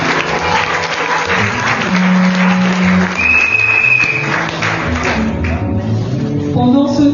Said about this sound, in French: Est-ce que tu peux acclamer pour toi-même?